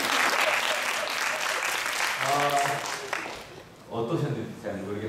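A church congregation breaks into loud applause at a Sunday service, a dense burst of many hands clapping that gradually fades, while a voice begins speaking over the tail end.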